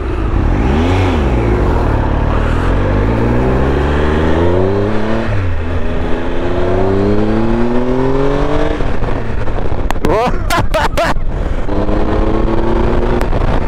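A Triumph Tiger Explorer 1200 motorcycle's engine on a test ride, loud and close, with repeated rising and falling revs as it accelerates through the gears, ending in a sweeping pitch climb after a short burst of wind buffeting.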